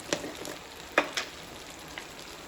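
Curry with chilli powder simmers in a lid-covered pot, giving a faint, steady sizzle with a few sharp pops and crackles scattered through it.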